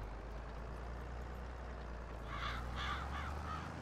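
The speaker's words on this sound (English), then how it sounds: "Oh, those crows are so stinking loud now." Crows caw in the Farming Simulator 22 game on the Elmcreek map, a few harsh calls in quick succession over a steady low engine hum.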